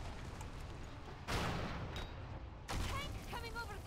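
Two heavy booms from a tank turret cannon in the video game World of Warcraft, spaced over a second apart, each a loud broadband blast fading into game ambience.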